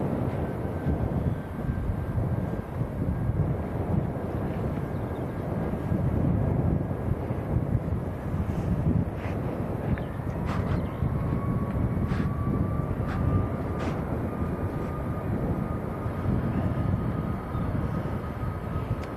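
A Ryanair Boeing 737 Max airliner at Manchester Airport rumbles as a steady, broad roar that holds loud throughout, with a faint rising whine appearing midway and a few brief clicks; no one talks.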